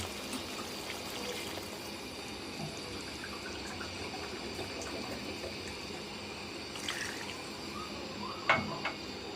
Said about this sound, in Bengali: এখন আমি দুই কাপ পরিমাণের পানি অ্যাড করবো